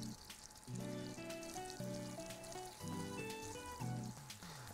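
Onions sautéing in butter and olive oil in a pan, a continuous soft sizzle with faint crackle and occasional stirring, fairly quiet and heard alone without speech.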